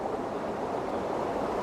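Autumn waterfall at Wyming Brook, a steady, close broadband rush of falling water that fills the whole short stretch without pause or change.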